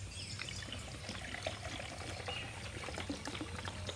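A 20-ounce bottle of water is poured into a cup, a soft steady trickle and splash that continues quietly for about four seconds with nobody speaking.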